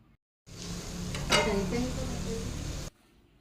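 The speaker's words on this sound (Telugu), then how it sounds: "బాగా కలుపుకుని చికెన్ ఫ్రై అయ్యేంత వరకు వేయించండి" Chicken pieces frying in a pan with green chilies, salt and chili powder, a steady close sizzle that starts abruptly, with a scraping stir and utensil clinks in the middle before cutting off.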